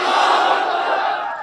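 A large rally crowd roars in unison in reply to a religious slogan called out at a Sunni scholars' gathering in Pakistan, a loud, dense, sustained chant that fills the whole moment.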